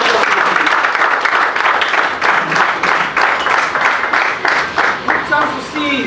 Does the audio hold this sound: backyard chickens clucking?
no